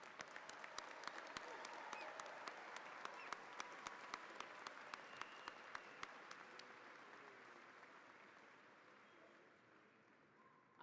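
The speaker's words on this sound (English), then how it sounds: "round of applause for our new PhDs and EDDs." A large graduate school commencement crowd at Virginia Tech applauds new doctoral graduates in a big hall, a steady, reverberant wash of clapping with a few sharp, close individual claps standing out, slowly dying away over about ten seconds.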